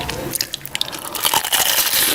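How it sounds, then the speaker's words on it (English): Crunchy food coated in honey and hot sauce is bitten and chewed close up, giving a run of sharp crackling crunches that grow denser toward the end. "Do you hear the crunch on that thing?"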